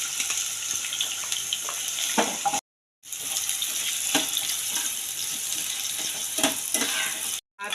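Lote fish and potatoes frying in mustard oil, a steady loud sizzle with scattered stirring scrapes, broken by two brief silences.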